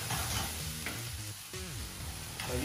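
Chicken and onion frying in a pan while being stirred; a soft, steady sizzle with scraping stir strokes, close and quiet, no talking.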